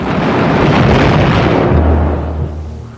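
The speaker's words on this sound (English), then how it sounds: "His ship is rocked by an explosion as one of Norfolk's shells knocks out her forward radar." A naval shell strikes the battlecruiser Scharnhorst at night, a loud broad blast that rumbles for a couple of seconds, then settles into a low deep roar as it fades.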